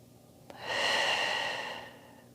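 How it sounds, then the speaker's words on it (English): A single long, deep exhaled breath during a Pilates wall stretch for runners swells and fades over about a second and a half, close and soft, after a faint click. "Big breaths."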